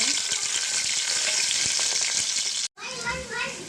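Whole spices (cinnamon, cloves, bay leaf) and onion hit hot oil for a chicken curry, producing a loud, dense, continuous sizzle that cuts out briefly near the end and then resumes more softly.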